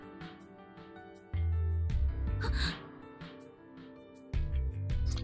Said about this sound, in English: Marshall gasped and looked at Salyu.